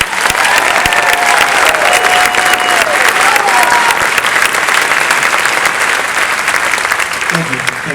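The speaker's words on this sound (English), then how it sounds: "Please give a big round of applause for Senator Doug Beck." Loud, sustained applause from a large town hall crowd welcoming a senator, with a few voices and cheers mixed in, fading slightly as it ends.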